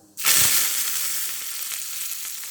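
Asafoetida and curry leaves dropped into hot oil with cumin for a sundakkai dal, bursting into a loud, bright sizzle that starts suddenly and then crackles steadily, close up.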